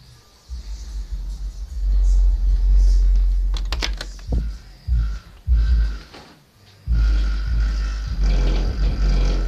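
Custom-built 12-inch bass speakers pound out deep, loud bass that fills the low end, with rattling and buzzing over it. The bass cuts out briefly a few times, then comes back strong.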